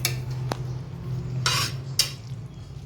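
A spoon stirs a slurry of milk and milk powder into milk in a pan, for carrot halwa, with a few sharp metallic clinks and scrapes over a low steady hum.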